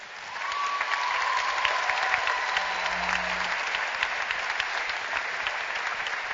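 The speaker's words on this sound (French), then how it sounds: "une bonne main d'applaudissements pour le service jeunesse, Père Frédéric et Angélique" An audience at a church prayer and adoration vigil claps for the youth service, a sustained burst of applause from a crowd that holds steady for several seconds before gradually thinning, with a faint tone briefly underneath.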